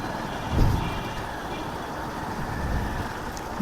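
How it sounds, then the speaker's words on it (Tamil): Road traffic with trucks and cars in an Indian city street, passing a motorcyclist near metro construction: a steady broadband rumble, with one heavier vehicle swelling close by early on, then a continuous wash of engine and tyre noise. "டிராஃபிக்"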